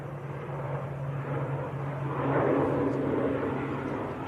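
Loganair ATR turboprop airliner at Manchester Airport, a steady low engine drone heard from a distance that swells a little in the middle of the clip and then holds, with no talking over it.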